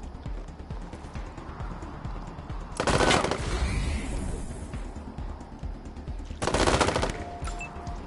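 Gunfire in the video game Wasteland 3: two loud, broadband bursts about three seconds apart, each lasting roughly half a second, over a steady background of ambient game noise.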